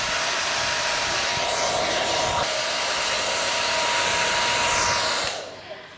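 A Philips BHD006 hair dryer blows with a loud, steady whoosh at close range for several seconds, then cuts off abruptly near the end.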